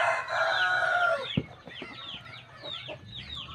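Native-mother chickens on a farm: a loud rooster crow up close, then a run of clucks and short calls, with no talking.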